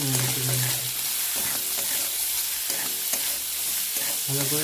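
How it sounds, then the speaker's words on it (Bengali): Grated coconut fries with turmeric and salt for Bengali narkel bhaja and is stirred. A close, continuous sizzle runs under repeated scraping strokes of the spatula, which come at a fairly regular pace with no talking. "এটা ভালো করে নেড়ে নেড়ে ভেজে নেব"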